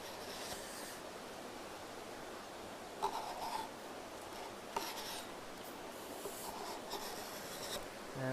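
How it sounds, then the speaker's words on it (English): Wood is scraped by hand to fit a neck support: quiet, soft rasping strokes in short bursts, faint and close, with a few sharper scratches. "I'll just scrape this a touch more"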